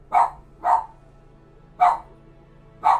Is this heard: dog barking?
yes